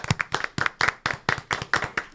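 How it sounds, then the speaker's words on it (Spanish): An audience at a church gathering claps in a quick, close, rhythmic series of about nine hand claps at an even steady beat, with no talk over it. "Vamos a darle un aplauso."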